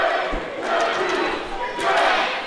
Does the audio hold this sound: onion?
no